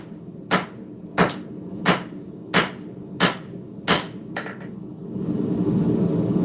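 Six even, ringing hammer blows land on a cleaver blade being forged with the round side of the hammer, close and loud, then a lighter tap and a rising hiss of background noise.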